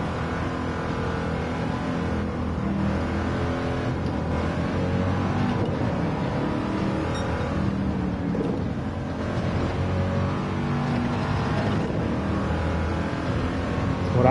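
Ford Mark IV race car in Gran Turismo 7 roaring steadily at high revs down a track, a continuous loud engine drone with slight pitch shifts and no talking.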